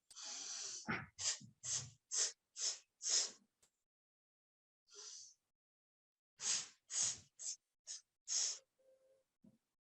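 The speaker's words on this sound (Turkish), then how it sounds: "Hızlıca burundan bir kez nefes alınır ve kısa kısa birçok sesi çıkarılarak nefes verilir." A speech-therapy breathing exercise: one quick sharp sniff through the nose, then a run of short forceful exhaled puffs through the mouth in steady rhythm, a pause, and another series of quick bursts, close and clear.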